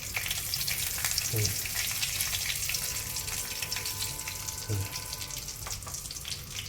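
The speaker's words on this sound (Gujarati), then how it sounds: "જો આ હિંગ પડે છે" Asafoetida drops into hot oil for tempering puffed rice, setting off a loud continuous close sizzle and crackle, with a couple of soft knocks from a spoon against the pan.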